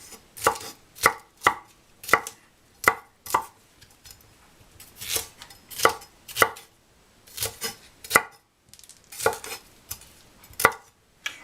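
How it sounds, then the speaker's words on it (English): A knife coarsely chops deseeded peppers on a board for sofrito, about twenty crisp, close thuds in an uneven rhythm with short pauses between bursts and no talking. "And you just chop"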